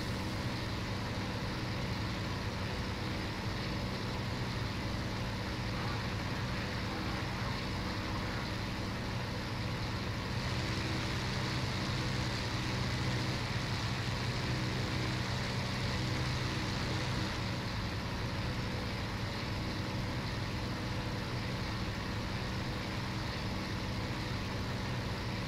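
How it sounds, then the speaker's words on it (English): A fighter plane engine in IL-2 Sturmovik over the Kuban, pushed to higher power while climbing, a steady loud droning roar that holds unbroken throughout. "Push my engine a little bit more here."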